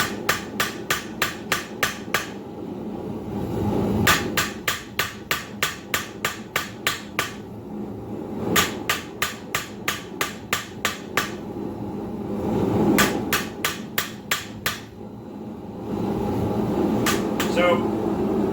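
Blacksmith hammering hot steel while forging a decorative heart hook with twists, bursts of rapid ringing hammer blows on an anvil in steady rhythm, loud and close, separated by short pauses over a constant roar of a forge blower.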